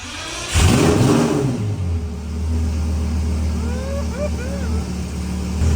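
A twin-turbo Lamborghini Gallardo catches on a cold start with a loud burst, then settles into a rough, uneven idle with a rising whine above it, while voices talk nearby.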